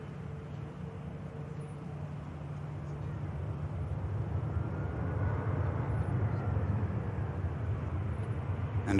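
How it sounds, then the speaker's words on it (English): A Eurowings airliner arriving from Dusseldorf on final approach at Manchester Airport, heard as a steady broadband engine roar that swells gradually louder over several seconds, distant but building, with no talking. "Aircraft on finals. Which while this Virgin Atlantic waits patiently is the Eurowings in from Dusseldorf."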